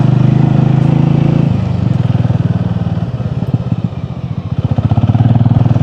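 A motorcycle engine runs loud and close while riding along a rough, potholed road, a steady throbbing drone that shifts pitch as the rider changes speed, with no talking over it.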